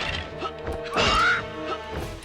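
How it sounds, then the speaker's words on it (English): A crow enemy in the video game Maximo: Ghosts to Glory gives a harsh, loud caw amid game music and clanking effects, one prominent squawk near the middle. "I'm pretty sure this thing is supposed to be a stupid crow"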